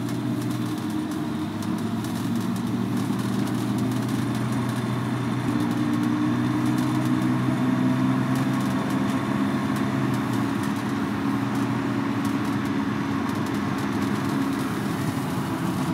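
A BMW E30 320i drives on a city road, its engine and tyre noise forming a steady, continuous rumble that stays loud and even throughout with no talking.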